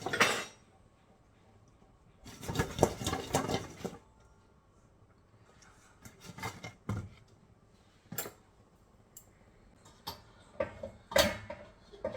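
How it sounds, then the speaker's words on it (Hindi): Roasted litti balls, wheat dough rounds baked for litti chokha, clink against each other and a pan in a home kitchen, giving several sharp, bright knocks in short bursts with quiet gaps between them. "और इसकी आवाज़ भी देख लीजिए आप कैसी है, बहुत ही एकदम कैसे खनक रही है।"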